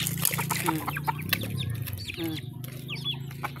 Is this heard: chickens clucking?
yes